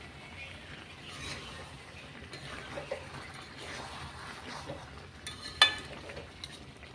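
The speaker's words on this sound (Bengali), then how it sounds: "ভালো করে কষিয়ে নিচ্ছি।" Chicken curry is sautéed in a pan village-style, the meat stirred in its own released water. Soft, steady sizzling and wet scraping continue throughout, with a few sharper clinks of the spoon against the pan, one louder near the end.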